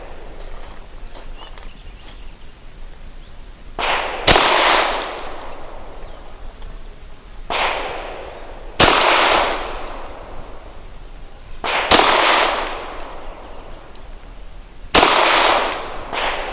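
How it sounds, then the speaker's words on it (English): Canik TP9 Elite Combat Executive pistol fires Nosler Match Grade 115-grain rounds: four loud, sharp single shots spaced several seconds apart, each followed by a short ringing decay over faint background noise. "I'm going to be shooting the Nosler Match Grade 115 grain"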